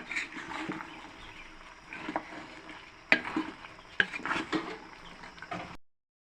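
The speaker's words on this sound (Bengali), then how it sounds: "এখন আমি চামচ দিয়ে নেড়ে দিচ্ছি।" A spoon stirs chickpeas (chola boot) in a frying pan with green chillies, making soft scraping and light sizzling with several sharp clinks of metal against the pan before it goes quiet.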